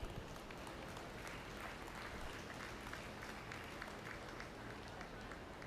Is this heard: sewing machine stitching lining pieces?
no